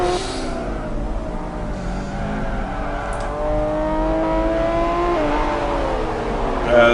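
A Metronome race car's engine in the Gran Turismo Grand Sport World Tour race at Twin Ring Motegi, locking up under braking: a loud, sustained, close engine drone with its pitch sliding and climbing as the revs change.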